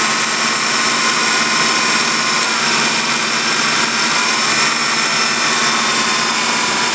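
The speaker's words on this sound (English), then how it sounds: "I hear the compressor cycle." Car air conditioning compressor cycling on during a leak repair, a loud, steady engine-bay roar with broad hiss and a constant drone that barely varies.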